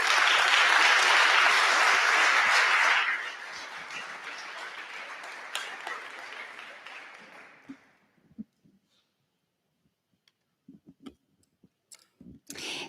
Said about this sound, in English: how about a round of applause for the CEO, Erica